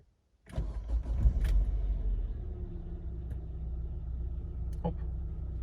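A Hyundai Tucson with about 205,000 km on it cranks and catches, then settles into a steady low rumble of idling engine, heard close up with a few faint clicks and a voice speaking over it.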